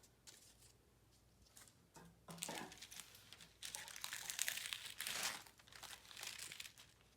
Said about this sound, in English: Now that we've cut out our shape using our wax paper